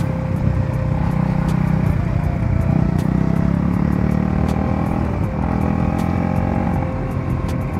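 A 2023 Husqvarna Svartpilen 250 motorcycle cruises steadily, its single-cylinder engine giving a continuous, close drone with wind rush and faint ticking clicks throughout, no speech heard.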